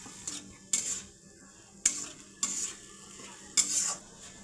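A spoon scrapes and clinks against a pan as chili and spice masala are stirred, giving a handful of sharp metallic strokes over a faint, steady sizzle, with no talking.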